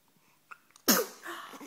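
A single sharp sneeze bursts out close and loud after a few faint breathy sounds, trailing off into a quieter exhale.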